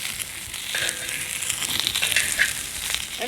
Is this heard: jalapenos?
yes